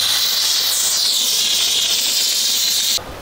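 A steam cleaner hisses steadily and loudly at close range while cleaning the sole of a shoe, then cuts off abruptly just before the end.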